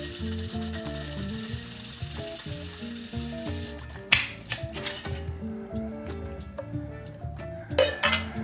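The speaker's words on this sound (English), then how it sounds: "so we've dry shaken our fizz" A sloe gin fizz is dry shaken in a cocktail shaker without ice, giving a steady rhythmic sloshing and rattling with a few sharp clinks near the end.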